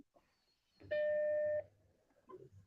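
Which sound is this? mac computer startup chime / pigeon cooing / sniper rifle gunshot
mac computer startup chime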